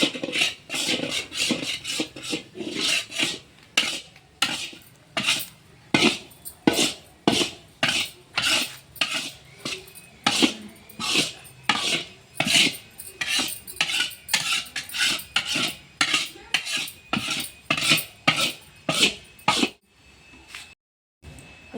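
A spoon stirs turmeric and jaggery together in a pan for a home remedy, making steady, rhythmic scraping clinks, about two strokes a second, close and fairly loud, with no talk.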